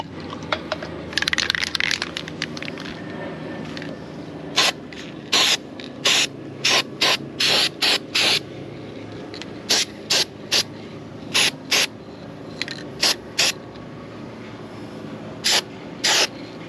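Steel It coating is sprayed under a van in short, close, sharp hissing bursts, some quick and some longer, separated by brief pauses.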